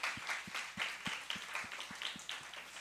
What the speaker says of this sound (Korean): 우리 수고한 랩런트들 미리 박수로 한번 축복할까요?